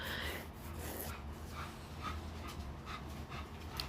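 A dog panting and scuffling about nearby while playing excitedly indoors, a steady breathy rasp with rubbing and shuffling noises, no talking.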